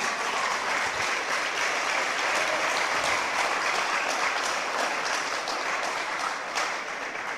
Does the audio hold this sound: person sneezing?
no